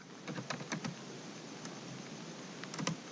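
Sparse keyboard taps as someone enters Java code on a computer, a few quick clusters of clicks separated by quiet gaps, fairly faint and close, with a sharper knock right at the end.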